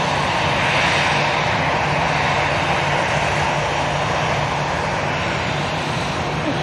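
An Emirates airliner at Manchester Airport gives a steady, loud broadband engine roar that holds constant throughout, with no clear speech over it.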